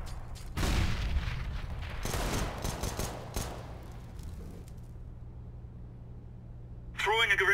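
In Counter-Strike: Global Offensive, a grenade goes off with a loud booming burst, followed by rattling bursts of gunfire that trail off, and a voice speaks near the end.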